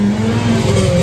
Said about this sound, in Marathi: गाडीचा बाहेरीचा आवाज आहे